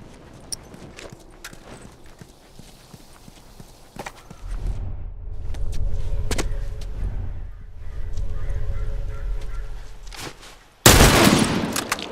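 Gunfire in The Last of Us Factions multiplayer comes as scattered sharp cracks and then a loud burst near the end, over a rumbling low background of movement and footsteps, with no speech.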